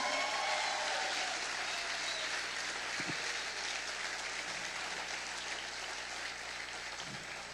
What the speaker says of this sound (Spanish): dele un fuerte aplauso a Cristo Jesús